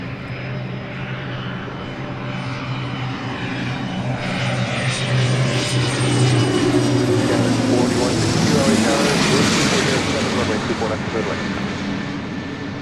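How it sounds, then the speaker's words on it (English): Cessna Citation CJ3 business jet approaching LAX on arrival from Montrose, a steady broadband engine roar that swells as it nears, peaks around the middle and lingers, with faint talk underneath. "This Cessna Citation CJ3 coming in from Montrose."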